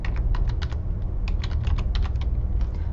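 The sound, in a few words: typing on computer keyboard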